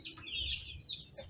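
Kampung chickens about three months old in a fairly open coop, clucking and calling in a steady, close chorus over a low rumble, with no one speaking.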